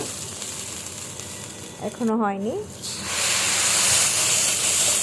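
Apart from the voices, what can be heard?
rice frying in a pot for plain polao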